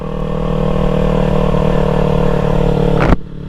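A Kawasaki Ninja 300 motorcycle's small engine drones steadily and loudly while riding, then cuts off abruptly with a clunk near the end.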